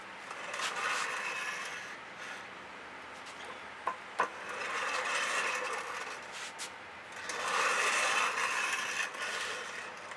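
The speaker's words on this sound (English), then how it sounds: "I think I'm going to use the clean side of that spatula" A spatula spreads metallic white fluid acrylic paint across a surface in long, soft, continuous scraping swipes, with a pause between strokes and a couple of sharp little clicks in the middle.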